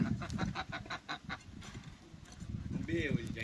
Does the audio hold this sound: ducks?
yes